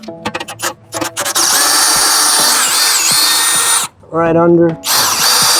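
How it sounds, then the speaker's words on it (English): A cordless power drill drives a trailer jack up or down, whirring loudly and steadily for several seconds, briefly stalling, then resuming; a voice speaks a few words at the start. "I find when the drill stalls out, it's kind of enough weight on these."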